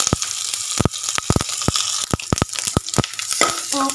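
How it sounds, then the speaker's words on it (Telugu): Garlic, dried red chilli, fenugreek, cumin and curry leaves crackling in hot oil for a tempering, with a fizzing sizzle broken by a rapid string of loud, sharp pops and spatters, close and continuous. "పోపు బాగా వేగాలి."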